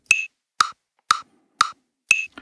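Digistix metronome clicking a steady count-in at 120 BPM, five crisp, evenly spaced ticks about half a second apart, close and clear with nothing else sounding.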